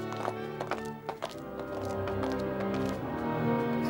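Hooves clip-clop in a quick rhythm over a busy layer of music and other sounds, the steps fading into a sustained tonal background.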